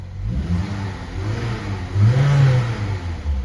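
A 2011 Saab 9-3 engine revs up close, its throaty roar rising and falling, with a stronger rev surging in the second half.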